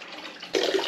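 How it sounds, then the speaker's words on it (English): Water gushes out of the bottom of a shop vac the moment the machine is switched off, a steady rushing wash that swells louder halfway through, close by with no talking. "The suction in the machine stops the water from coming out the bottom until you turn the bastard off."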